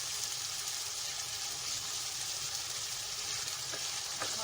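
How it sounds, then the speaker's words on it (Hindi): A paste of garlic, ginger and chili fries with onions in hot oil for a lauki (bottle gourd) dish, giving a steady, close hiss of sizzling with faint stirring near the end. "अब हम ये पेस्ट डाल देंगे जो हमने पीसा है, लहसुन अदरक और मिर्चों का पेस्ट। इसे भूनेंगे हम थोड़ा"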